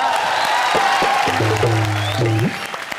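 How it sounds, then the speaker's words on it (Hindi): Studio audience at a Hindi TV comedy show bursts into loud, sustained applause mixed with crowd noise, steady for about two and a half seconds before tapering off. "फिर से जोरदार तालियां मेरे लिए"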